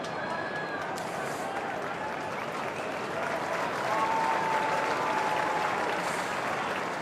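Crowd of West Coast fans at an AFL home game against Fremantle applauding and cheering after a goal, a broad steady roar of clapping and voices that swells slightly midway, with a commentator talking over it.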